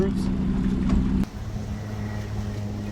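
A motorboat engine drones steadily on a winter cruise along the Intracoastal in Hollywood, Florida. The hum shifts in tone partway through, with wind noise underneath.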